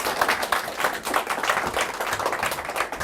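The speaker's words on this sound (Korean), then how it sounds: "다 같이 박수로 환영의 박수를 쳐주시기 바랍니다." At a Chinese-language expert training lecture, an audience greets the lecturer with steady, moderately loud clapping, a continuous patter of many hands throughout.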